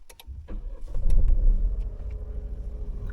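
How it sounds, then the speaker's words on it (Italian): A 2024 Renault Captur LPG car starts up: a short starter crank, then the engine catches with a rising burst and settles into a steady, close idle hum. "Quindi adesso accendiamo l'auto"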